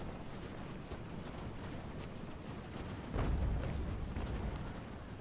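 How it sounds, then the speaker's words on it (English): Cannons fire solid shot in the Ultimate General: American Revolution battle game, a dull boom rising out of a continuous rumbling battle din with no speech. "those two cannons just doing work, hanging in there, firing solid shot against 200 men"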